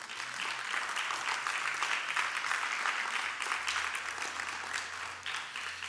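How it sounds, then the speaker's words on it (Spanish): An audience claps in a church service, a steady, dense round of applause that holds for several seconds at moderate loudness and then tapers slightly near the end, with no talk over it. "¿Cuántos pueden darle un aplauso al Señor?"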